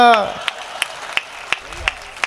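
Audience at a Hindi comedy poetry gathering clapping: after a brief voice at the start, a string of evenly spaced, rhythmic claps follows, moderately loud and close.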